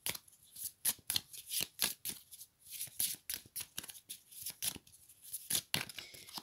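Tarot cards being shuffled by hand close up: a quick series of sharp riffling, flicking bursts with brief pauses between them, fairly quiet, with no talking.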